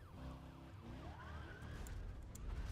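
Police car sirens in the racing video game Need for Speed Undercover wail with rising and falling tones over a steady engine rumble and road noise, fairly distant at first, then louder.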